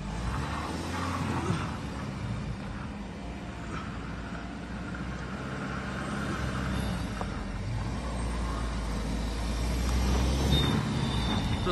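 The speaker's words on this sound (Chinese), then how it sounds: "宝马530啊" BMW 530Li sedan climbing a mountain road, a steady low engine drone and road rumble that gradually swells louder toward the end, with no talking.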